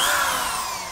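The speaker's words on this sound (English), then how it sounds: "that's the drill I used for the last year" A corded power drill spins down over about a second, a loud, steady high whine that slowly fades, heard alone without talk.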